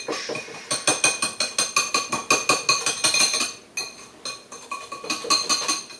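Cake batter being stirred in a mug with a utensil, a rapid run of close, bright clinks and scrapes against the sides that pauses briefly, then resumes with quicker, lighter taps.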